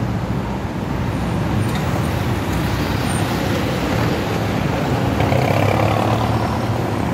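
Slow road traffic in heavy rain makes a steady, loud wash of tyre hiss and engine rumble, with vehicles crawling past nearby and the rain spreading a constant noise across everything.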